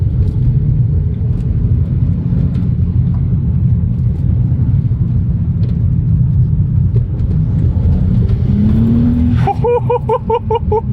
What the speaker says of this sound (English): Lag, lag, lag, lag, boom! That's part of the theater of this car, and Bryce loves that.